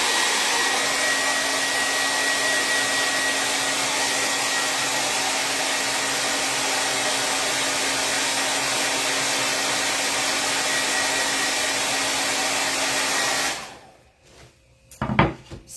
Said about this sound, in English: I'm going to take the blow dryer to it, and it's going to get loud